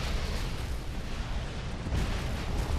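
Cannon fire from defensive towers in the video game Defense Grid 2, a dense, continuous barrage of rumbling booms blending into a steady roar with no talk over it.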